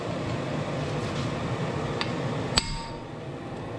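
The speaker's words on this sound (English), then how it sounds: "these impact screwdrivers, you set them on there and you hit them in the back, and they press in and rotate at the same time" A hammer striking the back of an impact screwdriver set on a brake rotor screw of a Hyundai Sonata during a brake job: one sharp metallic clank, preceded by a lighter tap, over a steady background hum.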